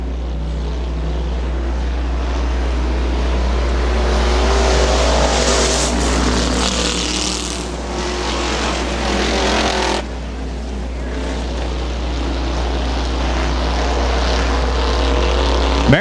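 Street stock race cars circle Butler Motor Speedway, their engines roaring together in a dense, loud drone that swells and eases as the pack passes. There is no talk.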